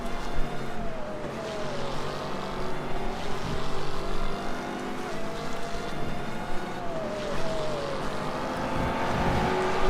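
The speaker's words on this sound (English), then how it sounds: "I don't know what car is this, but sounds like a mosquito." A race car engine in a Second Life virtual race whines with a thin, buzzing, mosquito-like tone. The engine rises and falls in pitch continuously for ten seconds, loud and close, with other engine noise mixed in.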